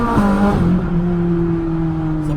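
A sports car with an F1-style gearbox accelerates hard, its loud engine note climbing, then dropping sharply at a quick gearshift before pulling up again, close and alone with no talk.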